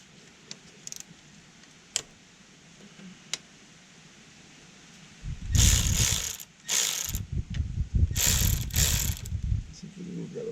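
Ratchet work on bolts of a 1990 Mazda RX-7 FC: a few faint clicks at first, then several loud, close bursts of metallic ratcheting and clattering in quick succession.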